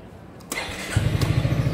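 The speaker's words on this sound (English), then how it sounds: "Sekali starter langsung on." A 2017 Yamaha XMAX 250 cc scooter starts on the first press of the starter. After a short whir the engine catches and settles into a loud, close, pulsing idle.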